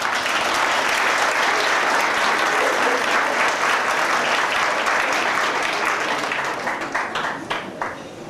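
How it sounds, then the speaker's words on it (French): Audience applause after an Electone organ performance at a Yamaha music club in Le Havre, France: dense, loud clapping from a crowd that holds steady and then thins out toward the end. "Vous l'applaudissez très fort."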